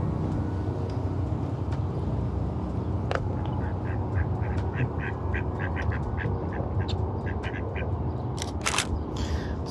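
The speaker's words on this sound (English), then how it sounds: "So little duckies," Ducks quack outdoors in a run of short, repeated calls, loud and fairly close, set over a steady rumbling background of traffic-like noise.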